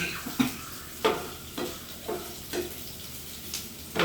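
Ginger sautéed and wilting in a pan for puli inji, with intermittent stirring scrapes and soft sizzling repeating every half second or so, close and moderately quiet, no talking.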